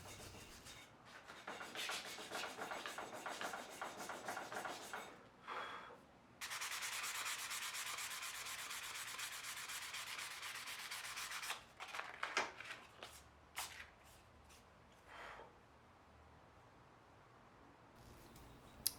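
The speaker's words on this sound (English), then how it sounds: "The focus here is grinding off the corners and getting the wood buttery smooth" Wooden kitchen knife handle being sanded smooth by hand during a simple restoration, with close scratchy rubbing strokes in long runs broken by short pauses.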